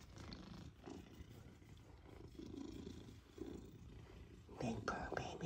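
A big domestic cat purring up close, a steady low rumble pulsing through the whole stretch, with soft murmured voice sounds mixed in and a louder burst near the end.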